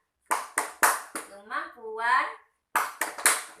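Group hand claps for the 'tepuk P2K2' clap game among women at a family-skills meeting in Aceh, crisp rhythmic bursts before and after a spoken chant, close and clear.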